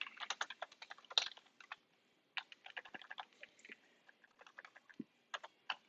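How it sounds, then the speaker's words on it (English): Rapid bursts of typing on a computer keyboard while entering an article citation, clustered keystrokes with short pauses between runs, close and clear with no talk. "you're typing it in"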